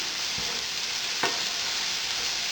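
Beef Salisbury steak patties fry in a pan with a constant broad sizzle, and one brief sharp clink or scrape stands out partway through.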